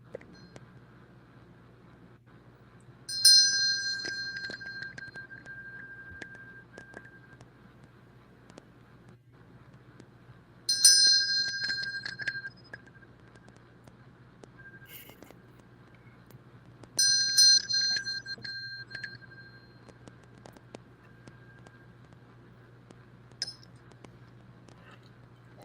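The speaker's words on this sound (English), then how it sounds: "So I'll start off with playing the Root Chakra Bell." A Root Chakra bell rings three times at even intervals during a grounding chakra exercise, each bright metallic strike sustaining a clear tone that slowly decays, over a steady low hum.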